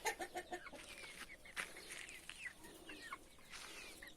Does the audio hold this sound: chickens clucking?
yes